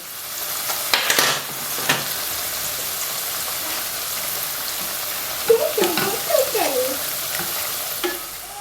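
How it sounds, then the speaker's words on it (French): Cream stirred in a hot frying pan for a pepper sauce sizzles softly, broken by a few scraping strokes and clinks of the utensil against the pan, close and fairly quiet. "Vous mettez votre crème dans votre poêle, vous tournez, vous ajoutez un petit peu de sel."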